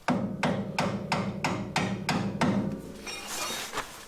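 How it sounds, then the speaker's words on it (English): Seven sharp metallic blows of a hammer on a screwdriver knocking out a rusty car axle, in a steady rhythm, close and loud, followed by scraping and clinking of metal. "if we just hit that with a hammer and a screwdriver on both sides"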